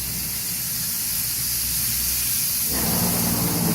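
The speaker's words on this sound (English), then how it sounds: "That sound you hear is what you call the Lang sizzle" Continuous loud sizzling hiss of beef plate ribs on a Lang smoker, steady and close, swelling slightly toward the end; no talking.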